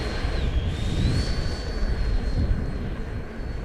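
XFly Sirius 80mm RC model jet on its takeoff run, a steady loud turbine-fan whine with a rising high tone and a broad rushing roar, sustained and fairly close with no talking.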